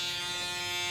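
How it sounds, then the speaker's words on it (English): An electric foil shaver buzzes steadily at close range during a men's haircut in a salon, a constant, even hum with no pauses and no voices. "So these are a foil shaver or a box shaver."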